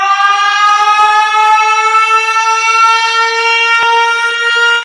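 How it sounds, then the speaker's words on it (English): A loud, sustained siren sound effect plays as a single steady, multi-toned wail lasting almost five seconds before cutting off abruptly, with no voices over it. "let's get a siren here from Mr. Jones for another."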